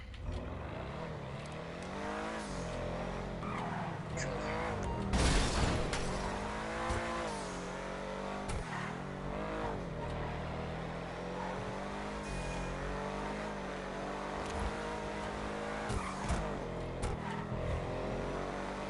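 A car driving in GTA 5 on PS4, one of the Arena Wars update vehicles: its engine revs up and down in repeated rising and falling sweeps, with brief tire squeals, close and steady throughout.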